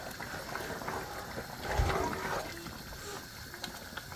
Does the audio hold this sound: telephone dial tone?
no